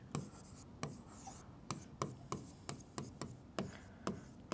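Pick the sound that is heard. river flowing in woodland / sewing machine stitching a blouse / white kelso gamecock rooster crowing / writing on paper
writing on paper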